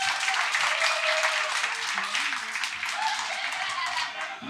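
A comedy club audience bursts into a round of applause, dense continuous clapping from many hands filling the room for several seconds, with some voices mixed in.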